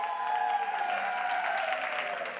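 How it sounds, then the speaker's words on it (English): An audience at an education symposium session on student memory gives a brief burst of applause, dense and even clapping from many hands throughout, fading slightly at the end. "Let's give a round of applause to Bonnie May."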